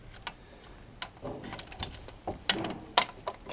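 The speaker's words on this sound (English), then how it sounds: "18mm deep socket that can take this sticking out bit and then break it loose" An 18mm deep socket on a ratchet works loose a stuck nut on a VW Golf Mk4 starter motor, giving a few sharp, close clicks and metallic ticks spaced irregularly over a few seconds, without speech.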